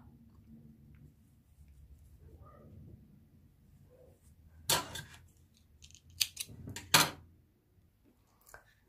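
Scissors snipping yarn during knitting of a pointed cepken vest, three or four quick, close cuts after a quiet stretch of faint handling noise.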